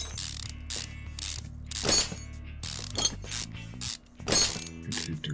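A ratchet wrench clicks rapidly while undoing engine bolts around the throttle and manifold in Car Mechanic Simulator 2015, a series of loud, close ratcheting bursts with metallic clanks between them and no talk.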